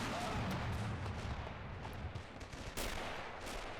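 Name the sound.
mortar barrage firing in a WW2 battle video game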